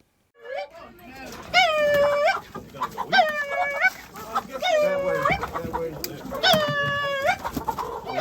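Chickens call out nearby on a farm in several loud bursts of clucking and squawking, with short gaps between them over a quieter background.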